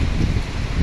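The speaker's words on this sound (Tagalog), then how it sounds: "Grabe yung ulan." Dense, steady hiss of heavy rain pouring down, continuous with no gaps.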